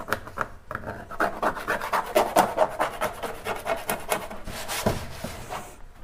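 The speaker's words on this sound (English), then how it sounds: "I'm just taking my fingernail and kind of going over where those glitter pieces are to loosen them." A fingernail scrapes stuck glitter off a wet Cricut cutting mat, making a steady run of quick, close rasping strokes in an even rhythm, with no voices.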